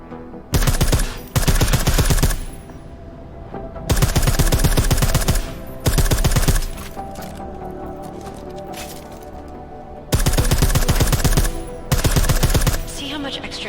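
Bursts of silenced automatic gunfire from a video game set in Deus Ex Mankind Divided, loud and close, several volleys of rapid shots separated by short pauses over a quieter game background.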